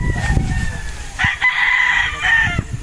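A white pit gamecock rooster crows once in a long, loud, drawn-out call close by, with faint chatter and other birds in the background.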